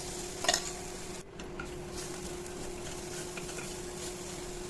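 Garlic chutney frying in a cumin and asafoetida tempering, stirred in the pan, a steady close sizzle with a brief clink near the start and a short dip, no talk.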